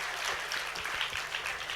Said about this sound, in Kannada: ಅವು ಕೇಳುವಂಗೆ ಜೋರು ಚಪ್ಪಾಳೆ ತಡ್ರಿ.